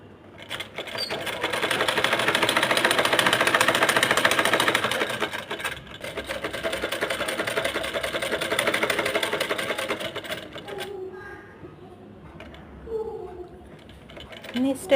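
A sewing machine stitches along the marked side seam of a kameez, a steady mechanical whir running for several seconds with brief pauses before it stops, ending in quieter handling sounds.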